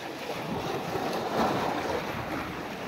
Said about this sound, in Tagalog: Dito lang sa basagan ng alon.